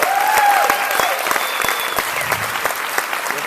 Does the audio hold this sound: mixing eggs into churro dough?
no